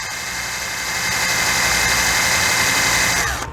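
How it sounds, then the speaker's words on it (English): A power drill steadily whines as it bores out the post of a Hot Wheels die-cast toy car, a loud, even, close motor drone held for a few seconds before spinning down abruptly at the end. "Let it drill a little bit"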